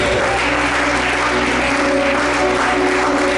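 A church congregation at a Pentecost seminar applauds and acclaims the Lord with dense, sustained clapping and cheering that fills the room loudly and evenly throughout.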